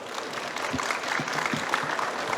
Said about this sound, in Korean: 이렇게 설명 잘해주신 이영민 권사님께 큰 박수 부탁드리겠습니다.